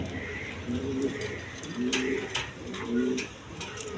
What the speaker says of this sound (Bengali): দর্শকবৃন্দ দেখেন এইখানে এক পেয়ার কবুতর আছে